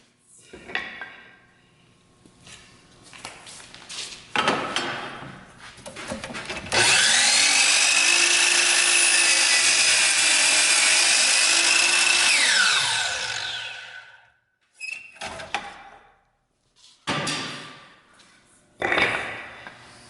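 Power saw cutting wood pressed tight against the fence while making a picture frame: a loud, steady whining cut of about six seconds with motor spin-up and wind-down, framed by brief knocks and handling clatter.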